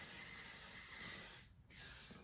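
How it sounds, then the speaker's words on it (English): Hairspray hisses from an aerosol can onto styled soft waves in two close bursts, a long steady spray, a brief pause, then a second shorter spray, with no talking. "I'm just going to spray it again"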